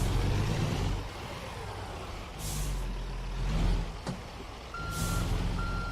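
Truck reversing beeps in American Truck Simulator, a steady electronic tone repeating near the end over a low diesel engine rumble, with a brief hiss of air brakes in the middle.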